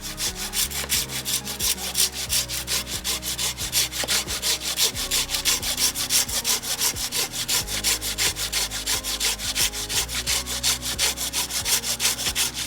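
A hand saw rasps through wood in fast, regular back-and-forth strokes, close and steady with no talking, in a quiet outdoor setting.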